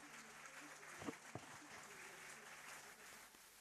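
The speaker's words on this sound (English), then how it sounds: "You heard the applause." Applause in the Arianespace control room after the successful Ariane 5 launch of flight VA217, a sustained soft clapping with a few sharper claps, heard fairly faintly and steadily throughout.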